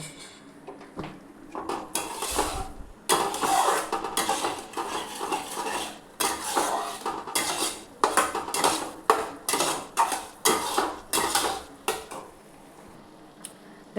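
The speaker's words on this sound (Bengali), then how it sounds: "আমি একটু ওই গরম জল যে রাখা ছিল সেই দিয়ে দিয়ে মশলাটা কষাবো" A spatula scrapes and knocks around a pan as an onion and garlic spice paste is fried down with hot water for aloo dum, producing loud, close, rhythmic stirring strokes in bursts with short pauses between them and no voices.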